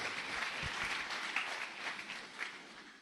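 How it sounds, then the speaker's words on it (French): A congregation applauds in a church, steady broadband clapping filling the room from start to finish, fairly loud and continuous with no voices over it. "Acclamons la parole du Seigneur."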